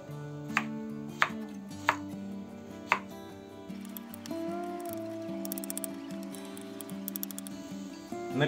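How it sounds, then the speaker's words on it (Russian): A knife chops zucchini into large cubes on a cutting board, several sharp, evenly spaced taps heard close up over soft background music, followed by quicker lighter clicks. "Кабачки нарезаем таким же крупным кубиком,"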